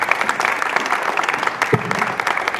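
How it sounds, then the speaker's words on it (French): Studio audience applause on a French-language television talk show, a dense, steady patter of many hands clapping at close range, sustained without a break. "Applaudissements,"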